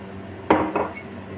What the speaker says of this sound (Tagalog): Kasi kailangan yan i-shake para maghalo-halo yung ingredient.